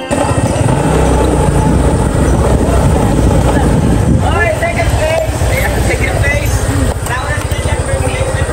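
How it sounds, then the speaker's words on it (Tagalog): Helicopter flying overhead, a loud, steady throbbing rotor chop that fills the whole stretch, with people talking excitedly over it. "Helicopter daw."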